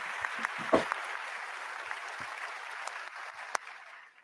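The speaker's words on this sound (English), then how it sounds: "the dreaded applause" Audience applause following an opening statement on a talk show, a steady wash of clapping that peaks early with a few sharper claps standing out, then gradually thins and fades.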